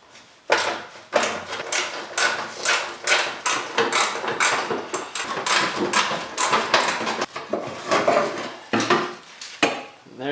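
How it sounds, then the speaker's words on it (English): Half-inch nuts being worked off the tire jack bracket of a Jeep CJ7, a close run of rapid metallic ratcheting clicks and clanks with short pauses, with no talk. "Now let's take off the bracket itself."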